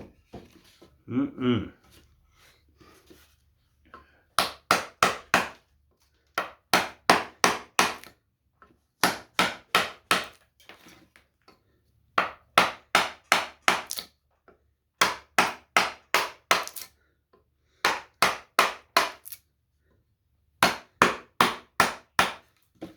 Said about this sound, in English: I love the sound of that chisel cutting that.